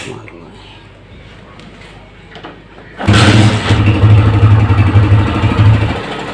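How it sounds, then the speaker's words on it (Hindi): A 2017 Honda CG 125 motorcycle engine starts abruptly after a few quiet seconds, then settles into a loud, steady, throbbing idle close by. "सबसे पहले बाइक को स्टार्ट करते हैं, इसका साउंड सुनते हैं"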